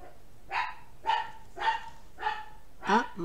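A dog barks five times at an even pace, each bark short and fairly close, with quiet pauses in between.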